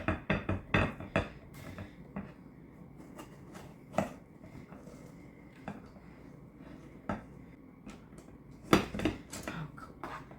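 A metal knife knocks and scrapes against a springform pan holding a no-bake key lime cheesecake. The clanks and taps come up close and irregular, with bursts near the start and a loud cluster near the end, and nobody speaks.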